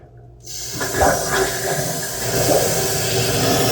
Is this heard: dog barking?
no